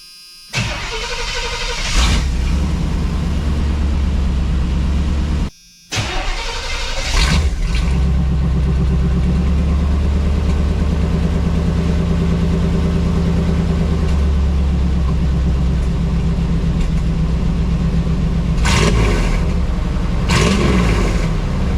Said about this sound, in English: we'll just do an exhaust cut and see what you guys think